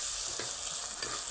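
Onions fry in a pan for a fish curry, a loud, constant sizzling hiss broken by a few soft stirring scrapes, with no talking.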